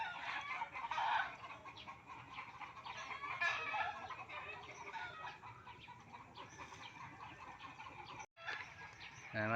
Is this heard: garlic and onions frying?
no